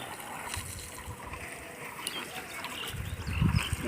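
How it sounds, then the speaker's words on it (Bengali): Water runs steadily from a hose onto plants at a nursery in Nadia, a continuous close splashing hiss that swells slightly louder toward the end. "গাছে জল দিচ্ছে"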